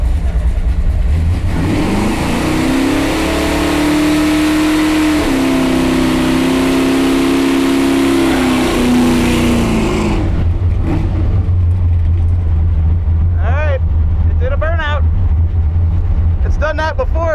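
A barn-find muscle car on round tires does a burnout, its engine roaring loudly at high revs with tire noise for about ten seconds, then dropping to a low idle rumble while someone talks over it.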